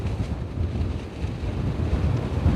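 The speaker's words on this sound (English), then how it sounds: "How bad is it with those wind gusts coming off of the ocean?" Strong ocean wind gusts during a winter storm roar and buffet a microphone in a steady, loud rumble with surging swells, no voices heard.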